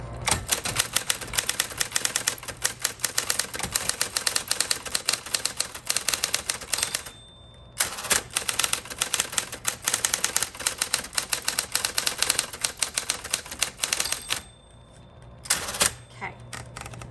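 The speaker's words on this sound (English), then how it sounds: "let's type that sentence again so you can see the difference" A cursive Electra 220 typewriter is typed on at a quick, steady pace, its keys clacking sharply at close range, in two long runs each ending with a carriage-return ding and pause.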